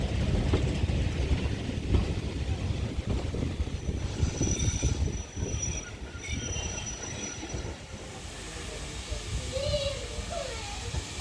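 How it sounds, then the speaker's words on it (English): Steam locomotive 4555 Warrior on the Paignton Dartmouth Steam Railway at Paignton Queen's Park Station, a continuous rumbling train sound with rhythmic clatter, hiss and occasional squealing tones, fairly distant and steady. "Four 555 Warrior on the Paignton Dartmouth Steam Railway at Paignton Queen's Park Station"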